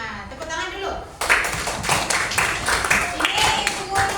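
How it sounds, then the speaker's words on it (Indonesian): Classroom students clapping hands in a science lesson on light; a short burst of rhythmic group clapping bursts in after a brief pause, with voices and chatter mixed in throughout. "tepuk tangan dulu"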